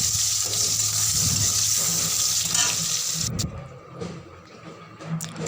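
Pieces of pointed gourd (potol) fry in hot oil until reddish, giving a continuous crackling sizzle that eases and quiets toward the end.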